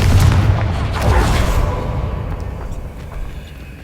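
A fiery Confringo spell blast from the Hogwarts Legacy game, a loud booming explosion with a heavy low rumble and a second surge about a second in, fading out over several seconds.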